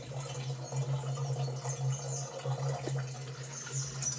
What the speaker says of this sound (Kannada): ನೀರು ಬಿಟ್ಟಿದ್ದಾರೆ ನೋಡ್ಬೋದು ಯಾ ಎಷ್ಟು ಜೋರಾಗಿ ನೀರು ಬಿಟ್ಟಿದ್ದಾರೆ ಅಂತ